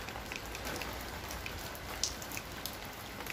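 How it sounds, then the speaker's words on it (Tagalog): Steady rain in Amman, Jordan patters on a surface, a soft continuous hiss with a few sharper drips standing out. "Umuulan ang Jordan."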